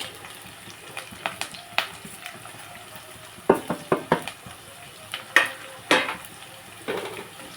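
Mung dal and cumin seeds frying in a pan, with a low steady sizzle under repeated sharp scrapes and clinks of a spoon stirring against the metal, some in quick bursts.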